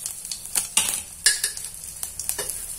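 Cumin, peanuts and sesame seeds crackle in a spoonful of hot oil in a pan, with sharp close pops and spoon scrapes in an uneven rhythm, no talking.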